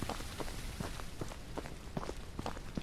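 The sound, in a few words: footsteps in Filipino folklore horror video game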